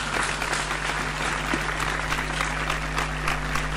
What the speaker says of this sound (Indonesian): mari kita beri tepuk tangan untuk Tuhan kita